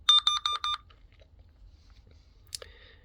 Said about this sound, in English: As you can see, you can hear the beep.